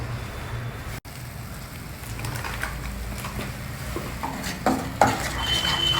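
Spices for chole stirred together in a cooking pan, a steady scraping and rustling with a couple of sharper clinks of utensil against metal near the end, close and moderately loud, no talking.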